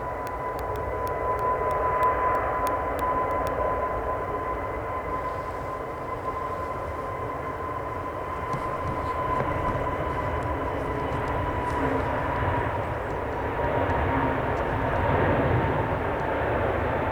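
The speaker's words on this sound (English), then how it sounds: "Engines rev, and here we go." Five-year-old airliner's jet engines spool up for takeoff at Manchester Airport, a loud, steady, broad roar that holds close and continuous with slight swells, with no talk over it.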